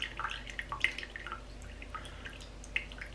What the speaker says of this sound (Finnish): sit se tippuu.